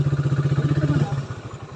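A motorcycle engine runs close by with a steady, heavy throbbing pulse that drops in loudness partway through, as if easing off or pulling up.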